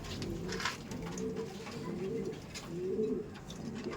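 A Punjabi pigeon in a racing pigeon loft gives repeated low, rolling coos, steady and fairly close against faint background noise.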